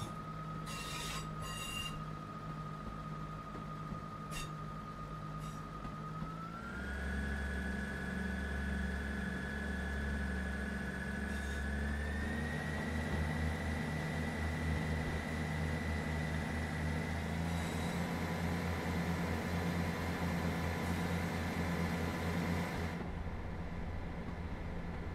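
A Class 158 diesel unit in Train Sim World 3 throttles up on the Midland Main Line, its engine note stepping upward in distinct stages over a steady tonal hum and rail rumble, fairly loud and without voices.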